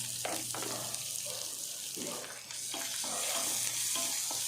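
Onion, green chili and curry leaves sautéing in a pan for spicy kuzhi paniyaram, a steady close sizzle with intermittent stirring scrapes and a low hum beneath, no talk.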